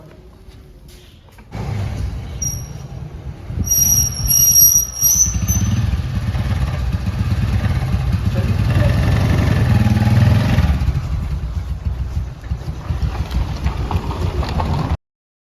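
A motorcycle engine fires up after a brief quiet start, then idles loudly and steadily with a faint high squeal early on, running on until it cuts out just before the end.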